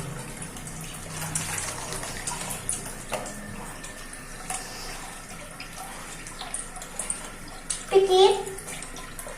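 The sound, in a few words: water running while a child washes their face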